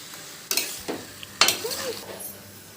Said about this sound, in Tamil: சிக்கனை சேர்த்து வதக்கிக்கலாம்.